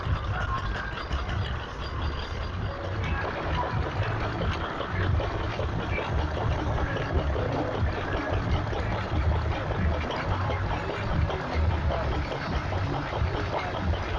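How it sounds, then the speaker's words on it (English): A big Bamford's stationary engine at a steam rally runs in a steady low chuff, with a continuous rumbling drone and busy outdoor background noise throughout. "Nice big Bamford's engine there, ticking away nicely."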